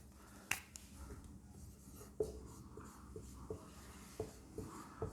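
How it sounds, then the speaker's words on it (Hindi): Chalk or a marker taps and strokes on a classroom board during a Hindi grammar lesson, coming as a series of close, sharp knocks spaced about a second apart over a quiet room. "यहां लिखेंगे"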